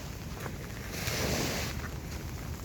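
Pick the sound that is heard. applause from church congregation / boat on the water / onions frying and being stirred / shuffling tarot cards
boat on the water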